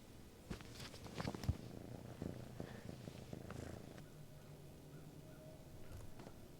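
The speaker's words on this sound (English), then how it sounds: "He's a pretty kitty." A cat named Luke purrs steadily and close by on a chicken farm, a low continuous rumble broken by a few soft knocks and rustles.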